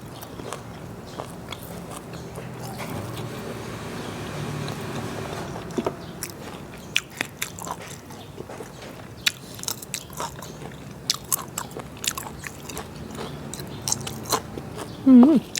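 Someone eats a Thai spicy raw beef salad with oroxylum pods and a bitter chili dip, close-up chewing and biting with intermittent crunches and soft mouth sounds, and a voice murmurs now and then.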